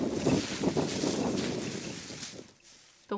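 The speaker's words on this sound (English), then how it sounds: "I was just wiggling on the branches with my tripod" Loud rustling and scraping of tree branches being shaken with a tripod, a continuous crackling swish that dies down briefly near the end before a short burst returns.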